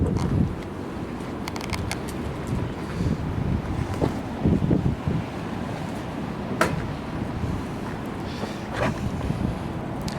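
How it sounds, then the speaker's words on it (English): Wind gusting outdoors on a blustery day, buffeting the microphone with a steady low rumble and occasional sharp gusts throughout, no voices. "Windy day."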